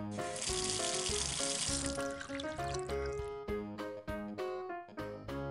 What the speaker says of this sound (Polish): Kran.